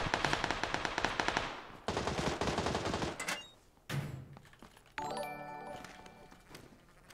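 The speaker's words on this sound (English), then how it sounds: "the Tommy gun has so many bullets when you have the extended mag" A Tommy gun with an extended magazine fires in PUBG in long rapid bursts of close, loud automatic gunfire, separated by short pauses and ending with a few clicking mechanical sounds.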